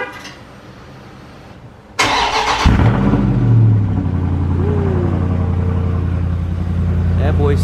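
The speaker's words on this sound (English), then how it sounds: "Started off with a cold start for y'all" A car engine cold-starts with a sudden loud crank and catch, then settles into a deep, steady rumbling idle with a slight rev rise, heard up close and alone.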